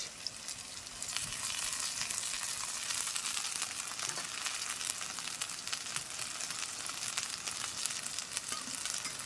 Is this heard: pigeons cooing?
no